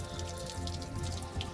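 Water drains steadily from a campervan's fresh water tank in a VW Crafter self-build, a continuous close trickle and patter with no voices over it.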